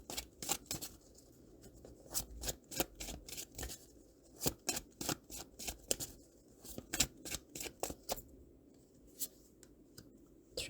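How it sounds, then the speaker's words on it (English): Tarot cards being shuffled and pulled, with a quick run of crisp, papery snaps and flicks arriving in irregular bursts, close and clear with no talking. "I want to pull one more card for you."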